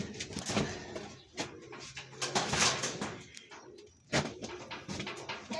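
Pigeons coo and flutter nearby in a loft being cleaned of thick droppings, amid scraping and knocking clatter, a busy, uneven mix of soft calls and handling noises.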